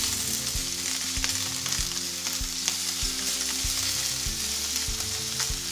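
Food fries steadily in a pan while a utensil stirs and scrapes it in regular strokes, a close, continuous sizzle marked by repeated low knocks against the pan, with no talking.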